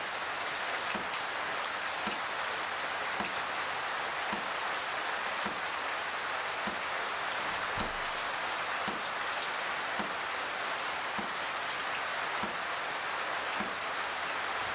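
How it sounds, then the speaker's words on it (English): Steady pouring rain falls outside at a game reserve, a constant dense hiss with faint regular ticks of drips beneath, unbroken and even throughout. "it's pouring with rain outside"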